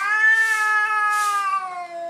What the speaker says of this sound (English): You're gonna see a cat fight here.